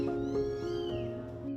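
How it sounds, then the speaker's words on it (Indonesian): Stray cats at an animal shelter meow nearby, a drawn-out plaintive cry heard clearly with no talking. "Sebagian kucing-kucing yang diantar ke rumah singgah Klo adalah kucing-kucing tak bertuan yang baru ditemukan dalam kondisi kritis dan membutuhkan pertolongan."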